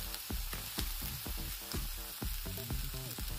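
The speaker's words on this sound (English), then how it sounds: "now I just have to stir it around" A vegan breakfast scramble of lentil seitan and vegetables fries in a pan, a close, steady sizzle broken by regular stirring scrapes and clacks.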